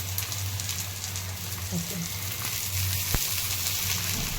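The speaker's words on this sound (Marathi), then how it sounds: "आता डपट टाकून घेतलेला आहे तव्यावर साईडने तेल सोडायचं आहे" Oil poured around a dhapate flatbread on a hot tava, giving an even, moderately loud crackling hiss that runs throughout with a few small pops and no talk.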